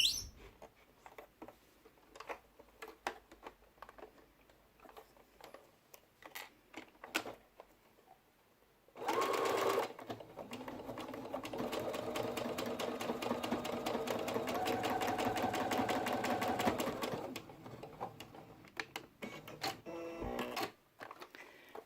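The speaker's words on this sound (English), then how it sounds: "we're going to go to the machine and we're just going to take the, we're going to sew those together" A domestic sewing machine stitches a cotton face mask, a steady motor whir running for several seconds in the middle after quiet handling clicks, then stopping; no one speaks.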